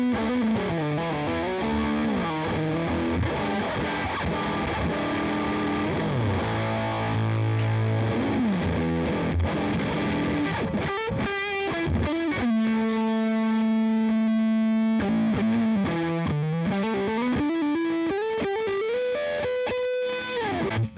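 Electric guitar driven through a fuzz pedal on a large pedalboard, a thick sustained distorted tone with sliding, bending notes and held chords, loud and continuous with no talking.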